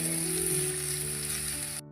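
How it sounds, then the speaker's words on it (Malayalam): Chopped onions and green chilies sauté in hot oil for a Kerala-style chicken curry, a steady close sizzle and crackle with a faint tonal hum behind it, cutting off abruptly near the end. "ഒരു 3 സവോള ചെറുതായിട്ട് അരിഞ്ഞതും ചേർത്ത് കൊടുക്കാം."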